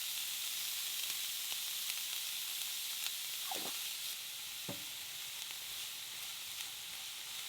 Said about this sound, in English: I'm going to cook it on medium heat and constantly stir it until it gets nice and brown.